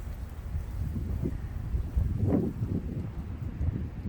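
Steady low wind rumbles and buffets against the microphone in an early spring garden, with faint rustling and a gust swelling midway; no one speaks.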